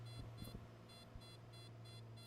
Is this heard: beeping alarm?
yes